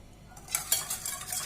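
Oil is whisked into eggless coffee cake batter in a bowl, producing a few quick wet stirring swishes and light clinks of a utensil, brief and close.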